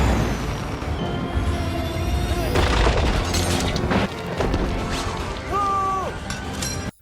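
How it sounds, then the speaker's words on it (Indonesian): Film action scene of a car rammed and dragged into a ravine: loud continuous crashing and scraping rumble with booming impacts and screeching metal, sustained and dense throughout. "Feng pun menabrak mobil Owen dan menyeretkannya ke dalam jurang."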